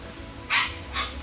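Two short, sharp dog barks close by, about half a second apart, over a quiet background hum.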